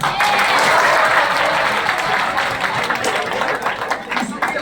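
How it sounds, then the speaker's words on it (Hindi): Loud applause from a group of schoolchildren at an eye-health session, dense steady clapping with some voices mixed in, easing slightly toward the end. "तालियां"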